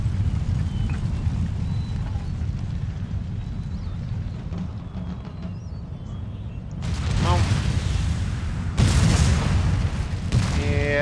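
Artillery fire in the strategy game Empire: Total War plays out as a dull, continuous rumble of distant battle, with sharp cannon booms bursting in near the end. A voice talks over the sound.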